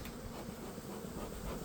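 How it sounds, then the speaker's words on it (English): Bees swarming inside a beehive, a dense, steady close buzzing hum filling the whole moment without pause or voices. "I'm going to come a little closer to the bees."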